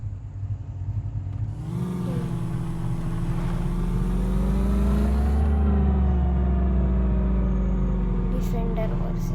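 A Range Rover engine in an Indian vehicle driving 3D game runs steadily, then revs up near two seconds with rising harmonics and holds a louder drone, with a voice over it.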